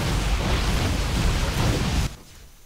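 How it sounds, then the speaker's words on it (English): Photon cannons in a StarCraft 2 PvZ match are destroyed, a dense rumbling wash of blasts that holds steadily for about two seconds, then cuts off abruptly. "He killed off all those cannons."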